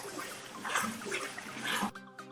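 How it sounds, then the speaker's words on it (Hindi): Water poured in small splashes into masala frying in a pan for Lahori chana, a bubbling, splashy pour that stops abruptly and leaves a faint tonal hum. "इसी तरह एक बार और मैं पानी शामिल कर लूंगी।"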